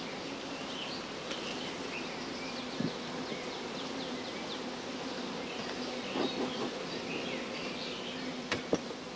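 Honeybees hum in a soft, continuous drone around an opened hive during swarm control, with faint bird chirps and a few small knocks in the background.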